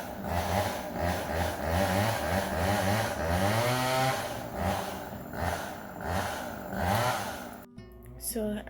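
A chainsaw nearby trimming the lower branches of an oak tree, revving and whining in repeated surges under a person talking close by, cutting off abruptly near the end.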